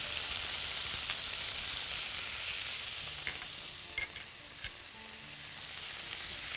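Garlic fries in a pan of oil with a steady, bright sizzle that slowly eases off, broken by a few soft clinks of stirring.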